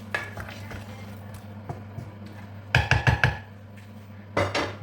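Banga soup with pepper and onions stirred in a metal pot, scattered scrapes and a cluster of sharp spoon clanks against the pot, with a steady hum behind.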